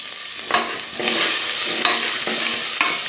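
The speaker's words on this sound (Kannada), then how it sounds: "ಕರಿಬೇವು, ಜೀರಿಗೆ, ಮೆಣಸು, ಹಾಗೆ ಹೆಸರುಬೇಳೆ, ಹುರಿದಿಟ್ಕೊಂಡಿರೋಂಥ ಅವರೆಕಾಳು ಎಲ್ಲವನ್ನು ಹಾಕಿ ಬಾಡಿಸ್ತಾ ಇದ್ದೀನಿ" Curry leaves, cumin, pepper, moong dal and roasted field beans sizzle in a pan, a steady close frying hiss broken by periodic scrapes and stirs of a spoon, with no voices.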